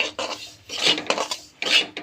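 A spatula scrapes and rasps against a pan while semolina is roasted in ghee, with several quick gritty strokes in an uneven rhythm, heard close up without any voices.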